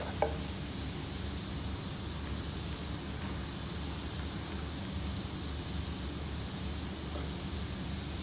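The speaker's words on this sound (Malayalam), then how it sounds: "അപ്പോൾ എണ്ണ ചൂടായിട്ടുണ്ട്, നമുക്ക് ഒഴിച്ചു കൊടുക്കാം" Boondi batter fries in hot oil for Kerala laddu, producing a steady, dense, close sizzling hiss that holds evenly throughout, with one brief knock near the start and no talk.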